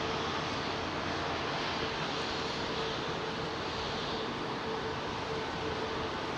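A jet airliner departing Heathrow with a slight tailwind: a dense, constant broadband engine roar holds at steady loudness throughout, close and unbroken.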